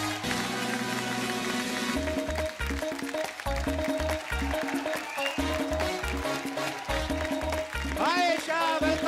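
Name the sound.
audience applause welcoming actress Esha Deol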